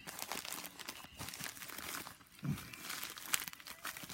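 Box cutter slicing open a package of football and baseball cards, close scraping and crinkling of tape and cardboard with a few sharper tearing bits, quiet and without talk.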